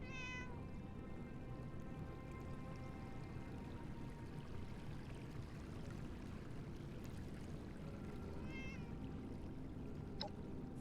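A cat meows in the game Fallout 76, with short harmonic cries at the start and again near the end, heard over a steady, dense bed of ambient game sound.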